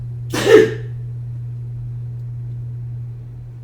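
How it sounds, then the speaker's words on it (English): A single sharp sneeze near the microphone, followed by quiet with a steady low electrical hum underneath. "Sneeze."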